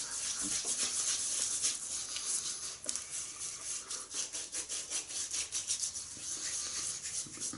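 Shaving brush scrubbing lather during a wet shave with a shavette: a close, quiet, continuous rapid rubbing and swishing that speeds into a rhythmic back-and-forth toward the end.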